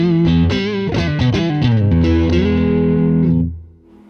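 A Fender Michael Landau Coma Stratocaster with noiseless single-coil pickups, played with the volume up through a Tube Screamer overdrive. Crunchy, distorted notes and chords ring out loudly and alone, then fade cleanly into near silence with no hum.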